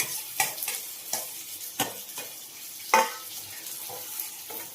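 Raw prawns sizzle in hot oil, with several sharp stirring scrapes and crackles at irregular intervals over a soft frying hiss.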